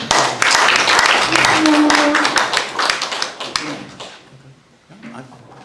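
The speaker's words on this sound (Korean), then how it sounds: "뜨거운 박수로 맞아주시기 바랍니다" An audience at a lecture hall applauds to welcome a guest lecturer, dense clapping for about three seconds that thins into scattered claps, with voices and brief talk over it as it fades.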